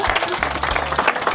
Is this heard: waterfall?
no